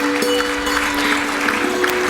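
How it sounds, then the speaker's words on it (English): Applause at a school award ceremony honouring ICSE 2018 toppers, a steady dense wash of clapping from a crowd filling the whole stretch without any speech over it. "May we please have a round of applause."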